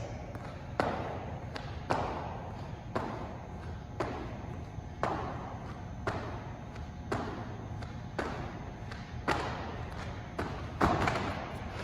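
Heavy thuds from jump squats and jumping jacks in a cardio workout land about once a second in a steady rhythm, fairly close, with a low background hum between the landings.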